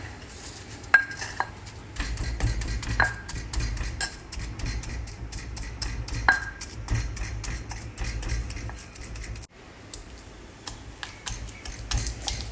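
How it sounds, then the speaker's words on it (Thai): Granulated sugar pounded with shrimp paste and garlic in a mortar gives repeated dull thuds with sharp clinks of the pestle, steady irregular strikes close by, with no talking. "เราก็ตำน้ำตาลนะคะ ที่เป็นเม็ดๆนะคะจนมันละลายนะคะ เข้ากันกับ กะปิแล้วก็กระเทียมที่เราตำไว้ก่อนหน้านี้นะคะ"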